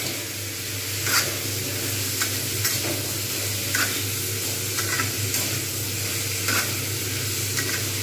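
Pumpkin with salt and turmeric being stirred in a pan, producing repeated scraping strokes roughly every second over a steady background sizzle, close and moderately loud with no talking.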